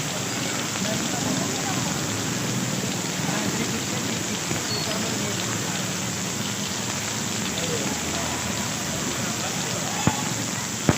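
Heavy rain pours steadily on a rainy day in Karachi, a dense, continuous hiss of drops striking surfaces nearby. A couple of sharp knocks sound near the end.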